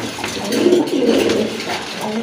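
White shirtin pigeons coo softly nearby, a low rolling call repeated over a faint background, with no talk.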